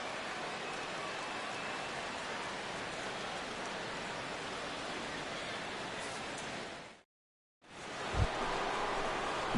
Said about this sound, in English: the rain continues to fall here